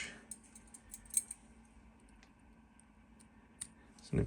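Sharp scissors snip off fly-tying thread on a coho jig, giving a few small, crisp clicks close by at a quiet level.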